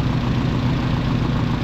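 A Toyota 5K engine idles steadily, a close, even, low mechanical rumble with no voices.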